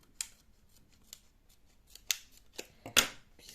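Scissors snip through a diamond painting tube in a quiet room, a handful of sharp, separate cuts spaced irregularly, the last few closest and loudest.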